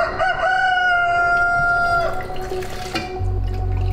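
A rooster crows loudly and close, one long drawn-out cock-a-doodle-doo that rises and holds before trailing off, followed by a low rumbling thud.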